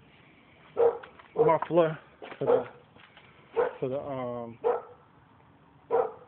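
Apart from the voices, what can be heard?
dog barking at cats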